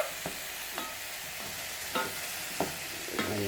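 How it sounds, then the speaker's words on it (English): Chopped mushrooms sizzle gently in a hot pan while a utensil scrapes and stirs them every half second or so, a steady faint hiss broken by brief spoon knocks. "Keep them finely heated and stirred."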